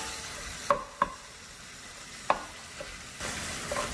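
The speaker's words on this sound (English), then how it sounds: "Our beef is getting nicely brown. Let's just keep it moving and break it up a little more." Beef browning in a pan while a spatula breaks it up: a few sharp scraping clacks of the utensil against the pan stand out over a faint, steady sizzle, with no voices.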